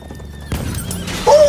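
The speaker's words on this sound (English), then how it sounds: "The horse is getting run over, man." A horse in the Battlefield 1 video game lets out a neigh amid game noise, with a thud and hoof clatter first and a bright, high whinny rising near the end.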